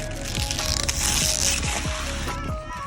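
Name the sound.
ratchet tightening tail lamp bolts on Nissan Titan XD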